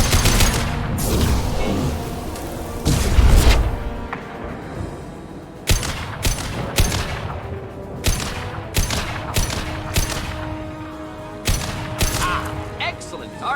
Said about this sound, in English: Going to explode.